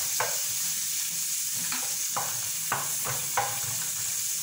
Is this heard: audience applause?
no